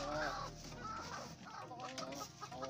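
A free-range chicken sitting on eggs clucks and murmurs in a run of soft, close calls, fairly quiet and without any talking.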